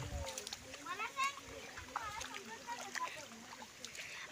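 Children play and splash in water, with intermittent splashes and excited young voices at a moderate distance while adults talk nearby.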